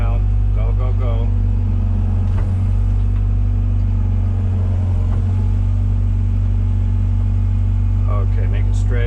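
A Komatsu PC120-6 excavator engine drones loudly and steadily at close range while the machine swings around, with low rumbling throughout and voices talking over it.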